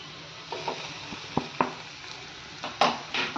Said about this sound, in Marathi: आता ह्याच्यामध्ये ॲड करूया सगळे सुके मसाले, मिरची पावडर, हळद, गरम मसाला